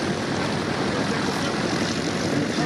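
A de Havilland Chipmunk light propeller trainer at an air show at La Ferté-Alais, its engine droning steadily and fairly loud throughout, a broad continuous roar without breaks.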